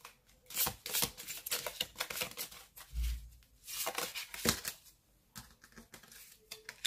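Tarot-style cards being shuffled and drawn by hand for a card reading, a run of quick riffling flutters and soft slaps with a few pauses, close and fairly quiet with no voices.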